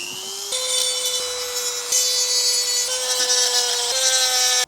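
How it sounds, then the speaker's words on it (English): A power tool with a tonal, whining note cuts through grooved plastic during an Audi S3 repair, heard up close as a loud rasping run broken into several strokes, each starting with a small step in pitch, no voices. "I'm going to cut through all these grooves, and then on this side I'm going to cut it clean off through there"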